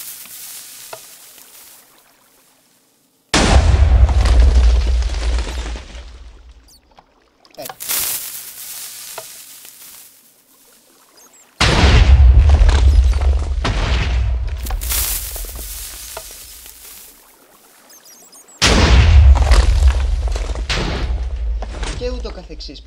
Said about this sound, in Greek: Έχουμε λοιπόν το κανόνι του TNT μας